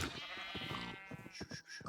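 Sheep in Minecraft bleat in close, loud, wavering cries, two or three overlapping calls over about two seconds with no talk.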